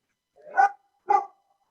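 A dog gives two sharp, close barks about half a second apart, then goes quiet, heard during a city council meeting.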